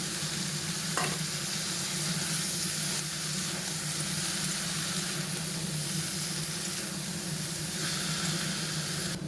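Leafy greens tossed into a hot pan with fried vegetables and ginger paste crackle and sizzle steadily, a close, dense frying hiss with occasional stirring sounds and no talk.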